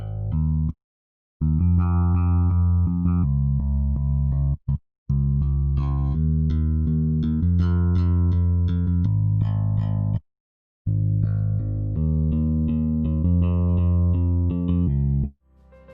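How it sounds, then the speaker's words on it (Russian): A deep, punchy modeled Rickenbacker electric bass playing a melodic riff with sustained low notes and brief gaps, bright and slightly gritty in tone, with no other instruments. "Рикенбекер всегда звучит классно в ракешнике."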